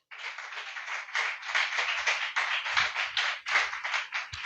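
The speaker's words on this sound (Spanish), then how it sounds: "Denle un aplauso al Señor." A church congregation claps during a Christian sermon, a dense, steady patter of many hands sustained throughout at moderate, even loudness with no talking over it.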